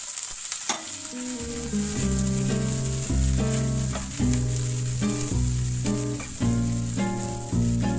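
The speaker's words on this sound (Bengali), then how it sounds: "এবার দিয়ে দিচ্ছি কুচিয়ে নেওয়া পেঁয়াজ" Chopped onions fry in a pan for a spicy ridge gourd mash, giving a steady sizzle and stirring. Background music plays over the cooking sounds throughout.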